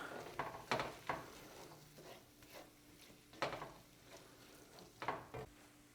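A spoon stirs Italian sausage ragu with fresh thyme in a pot, giving soft scrapes and several sharper clinks against the metal, scattered irregularly over a quiet simmer.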